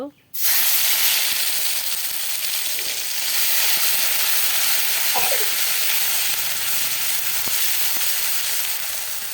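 Ginger garlic paste hitting hot oil in a pan already holding whole cumin and garam masala for a village-style goat curry. A loud sudden burst of sizzling hiss follows a brief quiet moment, then stays steady and strong throughout.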